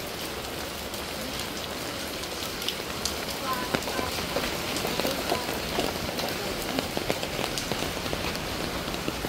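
Typhoon rain falls steadily on a Manila street, a dense continuous hiss of drops hitting surfaces with scattered louder splats and faint background activity.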